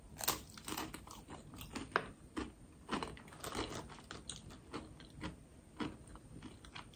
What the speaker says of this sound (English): They both were crispy and yummy.